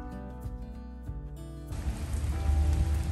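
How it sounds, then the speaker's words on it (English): Light rain shower in Savannah, Georgia, a steady soft hiss of drops on surfaces that grows heavier and denser partway through, with a low rumble underneath. "A little rainy day in Savannah, so we get the umbrella out now."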